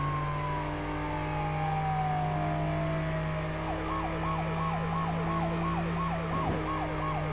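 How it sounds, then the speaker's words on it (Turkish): A fire truck siren from the Firefighter Simulator video game wails in a steady up-and-down pattern, starting after a long descending tone, over a constant low engine drone, loud and close with no talking. "Hadi sirenimizi de açalım."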